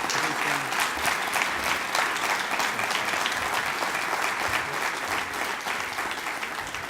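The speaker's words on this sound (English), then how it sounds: "I want you to give him a round of applause too as well" A crowd at an athletic hall of fame ceremony breaks into strong, sustained applause, a dense wash of clapping that carries on throughout and tapers slightly at the end.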